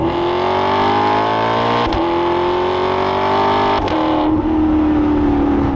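A Maserati GranTurismo MC Stradale engine revs hard and climbs in pitch, with two brief dips at gear changes, loud and close, running the whole time without voices.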